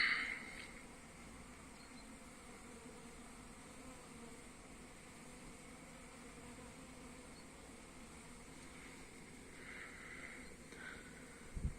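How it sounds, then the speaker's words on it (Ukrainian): A faint, steady honeybee buzz hums through a quiet outdoor scene as bees fly on a December cleansing flight near a warm hive wall, with a few brief louder moments. "Можливо, буде видно, як бджола літає."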